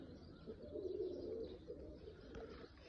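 A male Oman Teddy pigeon gives a low, throaty coo that swells and fades over a few seconds, heard near and alone against a steady ambient hum.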